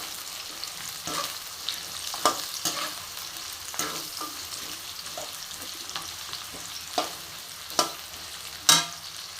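Onion fries on a medium gas flame for vegetable biryani, a continuous bright sizzle with periodic scraping stirs of a spoon against the pan, close and unaccompanied by talk.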